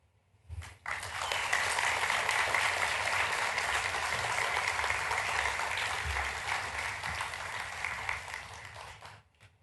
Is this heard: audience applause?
yes